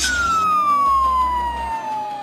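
A police utility vehicle's siren sounds loud and close, a single steady wail sliding slowly downward in pitch over a low vehicle rumble, with no talking.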